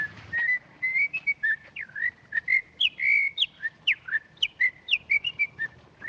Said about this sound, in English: Nice day of the week to be whistling in a jig on the streets.